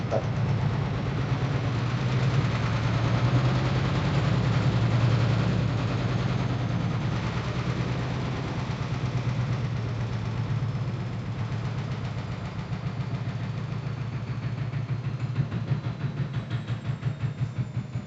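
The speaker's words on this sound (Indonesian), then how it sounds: "Mohon maaf, ada noise ya. Ada noise, ada gangguan. Mesin lagi muter ya." A nearby engine runs steadily, giving a continuous low rumble with a fast pulsing throb that masks the surroundings, with no speech over it.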